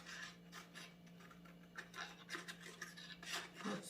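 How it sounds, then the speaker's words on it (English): Scissors cut a piece of paper along a straight traced line, producing close, repeated rasping snips and scraping strokes with no talking. "I'm going to cut that piece off."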